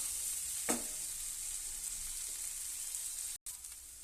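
Cowpeas and vegetables sizzle in a pan over a high flame, a steady bright frying hiss with a brief stir clink and a short drop-out near the end.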